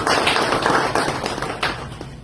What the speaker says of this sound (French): Je vous prie ici d'applaudir les deux ballons d'or